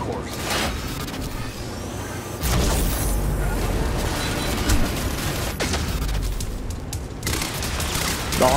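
Repeated gunfire bursts from the video game Quantum Break, loud and close, with heavy low booms and clattering mechanisms in a busy, continuous exchange.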